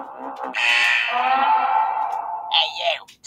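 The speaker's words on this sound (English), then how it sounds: "Looks like he set off some sort of alarm." A loud, wavering electronic alarm rings out in a vault inside a video game, sustained for a couple of seconds before breaking off into a shorter squawking tone.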